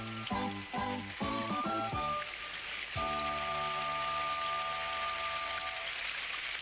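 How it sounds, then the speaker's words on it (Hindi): Steady rain hiss fills the background throughout, a continuous patter heard alongside musical tones in an animated scene. "बारिश।"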